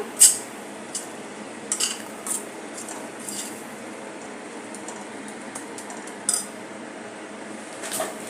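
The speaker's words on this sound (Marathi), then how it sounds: "आता आपण याला परतून घेऊया." Ground spices (garam masala, coriander and cumin powder) sautéed in a pan, with a spoon tapping and scraping in scattered metallic clinks over a faint steady cooking hiss.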